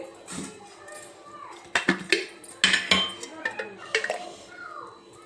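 A metal kadai is set down on a stove, producing a series of close, sharp clanks and rattles of cookware, while a voice talks over the clatter.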